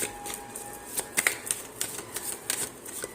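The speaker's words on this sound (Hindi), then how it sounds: "जब तक मैं आप लोगों के लिए कार्ड शफल कर रही हूँ" Tarot cards are shuffled by hand, giving a run of crisp, papery snaps and riffles in irregular bursts, close and fairly quiet, with no speech.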